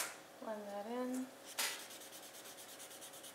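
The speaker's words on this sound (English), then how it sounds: "Blend that in." A blending stump rubs graphite into paper in soft, close, rhythmic strokes after a short spoken phrase, the swishing repeating steadily and faintly.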